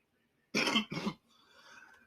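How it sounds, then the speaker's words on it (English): Two quick, harsh coughs close by, followed by a faint lingering background hum. "It made him cough, guys."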